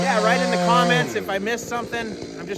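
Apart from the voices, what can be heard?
No distinct noise like a dog, phone or traffic.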